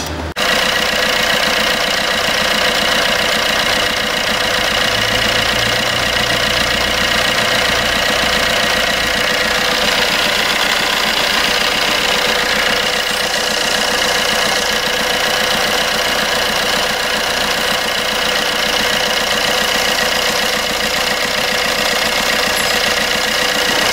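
Fiat Doblo with a 1.3 Multijet diesel engine idles steadily, its close, loud, even knocking rumble running unbroken throughout with no voices.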